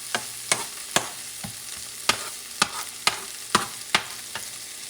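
Stir-frying in a pan for tomato and scrambled egg, with a light steady sizzle broken by about ten sharp, regularly spaced scrapes and clacks of the spatula against the pan, close and alone.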